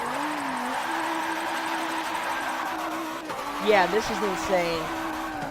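A car drifting on a suspension and angle kit, engine droning steadily under a voice before tires squeal and skid in a brief burst of screeching near the end.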